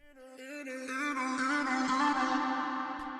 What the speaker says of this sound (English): To create this nice cool riser.